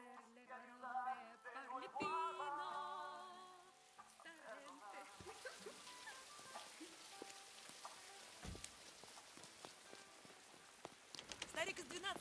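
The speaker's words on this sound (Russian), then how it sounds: "Такой дождь." Steady rain patters and hisses on surfaces, a dense crackling wash that continues evenly, preceded by a tonal passage with voices at the start.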